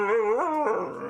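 A dog gives a short, tonal howl that bends up in pitch and then slides into a thin, whimpering whine, close and clear with no talking.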